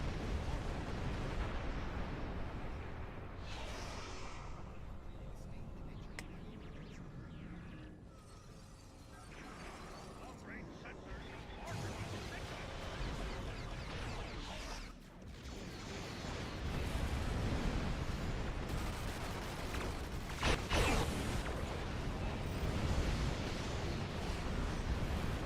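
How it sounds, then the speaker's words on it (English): A Borg sphere blows apart in Star Trek Online with rumbling, crackling bursts and mechanical clatter. The noise stretches on at moderate volume and swells into heavier blasts in the later part. "Spheres explode, don't they?"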